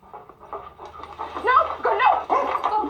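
A dog pants rapidly and audibly in a film scene, with a few whimpery breaths, close and fairly loud over a faint low hum.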